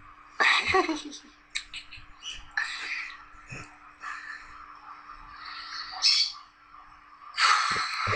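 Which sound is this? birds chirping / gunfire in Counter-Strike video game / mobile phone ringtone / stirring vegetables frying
birds chirping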